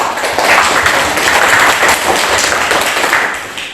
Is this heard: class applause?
yes